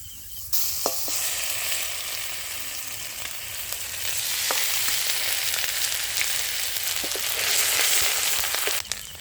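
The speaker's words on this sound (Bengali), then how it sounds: "তেলে গোটা গরম মশলা, গোটা জিরে ফোড়ন দিয়ে দেবো।" Whole garam masala and cumin seeds spluttering in hot oil, a loud, close, continuous sizzle with scattered sharp pops and crackles throughout.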